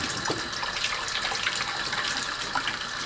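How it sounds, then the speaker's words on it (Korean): Running tap water gushes steadily as salted zucchini is rinsed under it, a close, continuous splashing stream. "애호박이 다 절여지면 흐르는 물에 헹굽니다."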